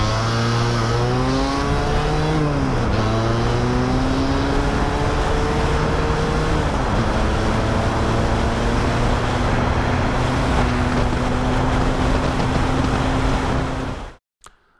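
Vespa scooters, a Pinasco 225 P200E and a Malossi 221 PX LML, accelerate hard from a standstill down a road, engines loud and droning with rising pitch through gear changes before cutting off abruptly.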